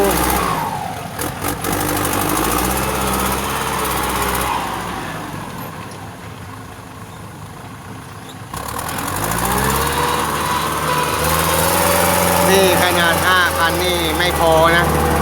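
A farm tractor engine runs steadily at a mid pitch, its drone loud and close, dipping quieter for a few seconds before rising again, with people talking over it.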